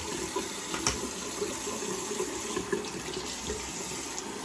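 Tap water runs steadily into a sink to rinse a Henson AL13 razor, a continuous close splashing hiss with a few small clinks, no talking.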